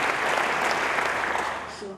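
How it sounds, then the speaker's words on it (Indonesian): Steady, dense applause from a church congregation fills the space for a couple of seconds, moderately loud and continuous, with no talk over it. "Beri tepuk tangan yang baik bagi dia."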